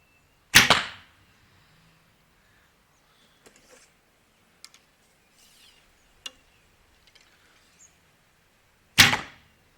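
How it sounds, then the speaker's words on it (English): Arrows from a 2021 Win and Win Black Elk recurve bow strike a target, two sharp loud slaps about eight seconds apart, with faint scattered clicks and ticks in the quiet between. "I think a lot of that's from the arrow hitting the target"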